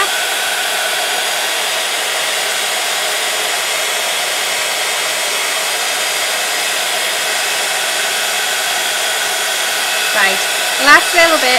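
A heat tool blows steadily as embossing powder melts on a handmade card, a constant broadband whoosh running throughout, with a brief spoken remark near the end.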